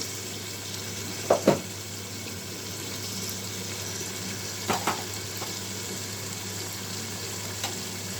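Ground cumin, chili powder and green chilies frying in oil in a pan for biryani, a steady soft sizzle with a few sharp clinks of a utensil stirring.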